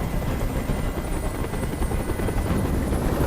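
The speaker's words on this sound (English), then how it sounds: "Tell that helicopter to get out of here." A video game helicopter, rotor thumping steadily with a loud, dense engine roar throughout, close by and unbroken.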